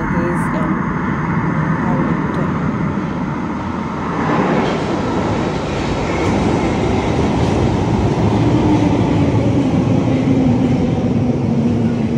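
A London Underground tube train arrives at a station platform, a loud, steady rail rumble and rolling clatter that builds and holds throughout, with people's voices faintly mixed in.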